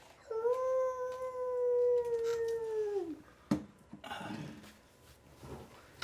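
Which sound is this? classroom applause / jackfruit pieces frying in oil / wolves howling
wolves howling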